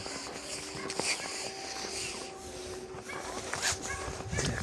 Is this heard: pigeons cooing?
no